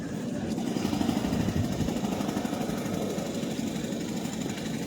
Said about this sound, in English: so you can hear they're using a jackhammer.